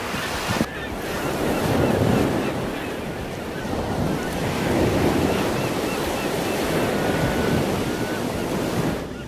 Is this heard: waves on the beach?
yes